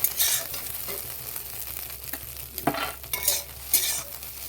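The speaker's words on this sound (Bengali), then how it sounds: "ভেঙে গুঁড়ো গুঁড়ো করে ভেজে নিতে হবে" An egg is fried and broken into crumbs in a kadai, with a continuous close sizzle and repeated scraping, clinking stir strokes from a spatula against the pan.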